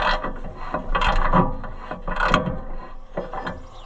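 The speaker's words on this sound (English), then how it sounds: "We're carving into the aluminum pretty good." A tool carving and grinding into the aluminum of a White 5100 planter seed meter unit, giving rasping, scraping strokes in uneven bursts with ratcheting clicks, close and fairly loud.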